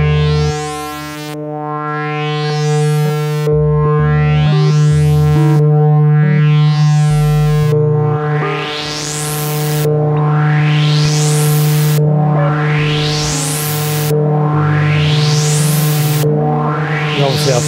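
Synthesizer square-wave oscillator with its pulse width modulated by noise through an attenuator, recorded onto a 1984 cassette recorder; a sustained buzzy tone with repeating bright filter sweeps roughly every two seconds, loud and continuous with no talking.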